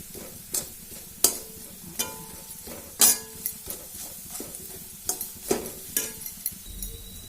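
Ivy gourd sizzles steadily in oil while being stirred in a pan for chutney, with scattered sharp clinks of a utensil against the pan rising above the close, continuous frying hiss.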